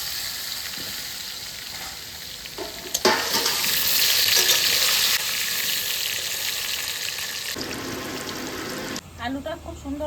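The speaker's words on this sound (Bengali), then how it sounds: "প্রথমে আমি আলুটা ভেজে নেব।" Potatoes fry in hot oil in a wok, a soft sizzle that swells into a louder crackling burst as they are stirred, then settles back to a gentle hiss before a brief clatter.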